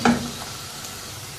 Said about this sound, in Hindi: प्याज को इतनी देर तक पकाएंगे कि इसकी रंगत तब्दील हो जाए और ये थोड़ा नरम पड़ जाए